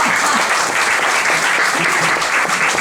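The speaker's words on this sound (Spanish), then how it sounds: "un aplauso para ellos que por fin han llegado" Festival audience applauds arriving guests with loud, continuous clapping, dense and steady throughout, close by and unbroken.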